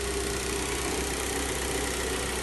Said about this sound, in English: You can see by the rev counter, she's idling.